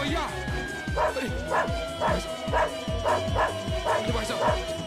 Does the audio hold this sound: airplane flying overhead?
no